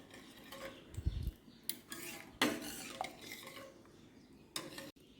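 A spoon stirs sugar into thick millet kanji in a cooking pot, giving quiet scraping and a few sharp metallic clinks against the pot in uneven bursts, with no speech.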